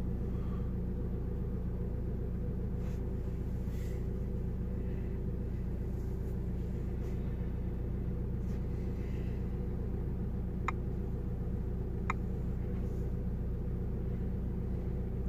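Inside a Ford car driving on the road after its P0299 fault code was cleared, a steady low engine and road rumble drones evenly throughout, with a couple of faint clicks and no talk.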